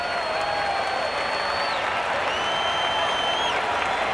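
A packed Atlanta Braves stadium crowd roars in the ninth inning during a 1993 home game against the San Francisco Giants, fans on their feet. The cheering is a dense, steady wash of noise with a few whistles rising above it.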